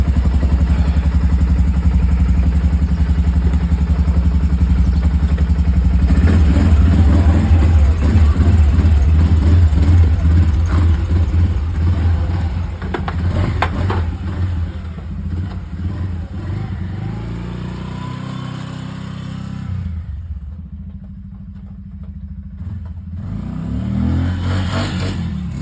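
A tractor engine runs close and steady on a farm, a low chugging drone that rises with revving and clatter, then eases and fades toward quiet before picking up again.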